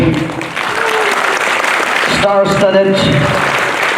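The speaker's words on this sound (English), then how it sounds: "Shall we give a round of applause for the" An audience applauds for the Poumai Baptist Church, Delhi Choir at the 36th Vedaoyu Niih 2025, with loud, dense, sustained clapping filling the hall while a voice speaks over it.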